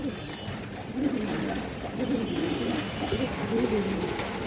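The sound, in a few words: pigeons cooing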